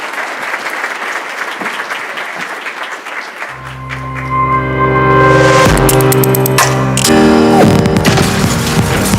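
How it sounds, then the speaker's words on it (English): A conference audience at an HR event applauds loudly after a keynote talk on the future of work, sustained clapping for a few seconds before booming music with a heavy beat swells in and carries on over the fading applause. "A round of applause for him, please"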